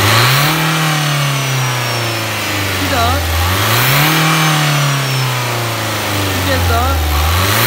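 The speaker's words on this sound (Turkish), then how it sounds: "Gaz verelim." A car engine with a burst turbo pipe that has a fingertip-sized hole revs up close, rising and falling through three or four long throttle sweeps with a hissing edge, while someone speaks briefly between revs.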